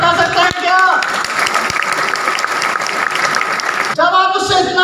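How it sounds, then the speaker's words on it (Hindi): Audience clapping at a staged event, a dense, continuous burst of applause heard between a voice speaking just before and after it. "तालियों से बता सकते हैं क्या?"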